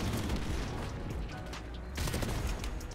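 Missile strikes and explosions in Call of Duty Modern Warfare Remastered, a dense barrage of booming blasts and gunfire rumbling continuously, with a fresh loud impact near the end.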